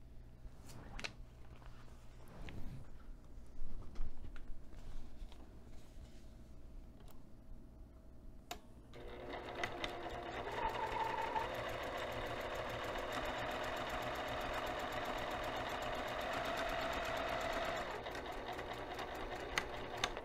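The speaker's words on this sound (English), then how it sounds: "I'm going to take this back over to the sewing machine, and I'm going to sew this line" After some quiet handling noises and clicks, a sewing machine starts up and runs in a steady, fast mechanical whir of stitching for several seconds.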